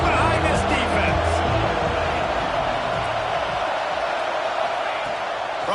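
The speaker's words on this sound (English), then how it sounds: "this crowd is getting behind this defense" A stadium crowd in College Football 26 cheers loudly and steadily behind the defense on a big third down in the red zone, a dense roar that slowly eases.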